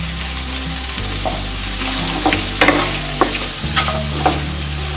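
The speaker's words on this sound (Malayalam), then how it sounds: "ഇതെല്ലാം ഹൈ ഫ്ലെയിമിൽ ഇട്ട് തന്നെ പതുക്കെ മിക്സ് ചെയ്യുക." Dragon chicken with halved dried red chillies stir-fried on a high flame in Kerala style, a steady loud sizzle with repeated scraping and clinking of the spatula against the pan.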